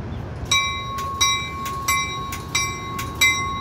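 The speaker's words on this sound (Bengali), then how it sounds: "এবার ট্রেনটি রওনা দেবে।" A double-decker local train departs Prospect Heights railway station, its wheels clacking in a steady, evenly spaced rhythm under a sustained ringing tone, moderately loud and close.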